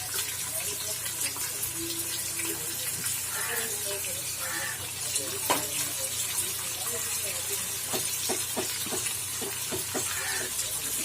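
Chopped onions frying in oil in a pan for duck curry gravy, a continuous close hiss and sizzle with scattered pops and crackles, steady in level throughout.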